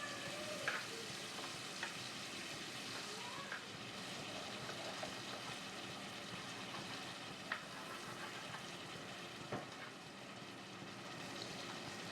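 Onion, capsicum and tomato sauté in a pan with a continuous soft sizzle and occasional spatula scrapes and clicks, fairly quiet and steady throughout, with no talk.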